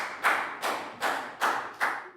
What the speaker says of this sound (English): And round of applause for everyone,